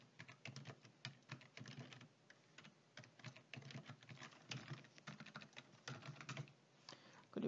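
Computer keys are pressed, including the Tab key, while someone fills in a table in a Korean word processor. The keystrokes come as a quick, uneven run of light, close clicks that keep going with no voices.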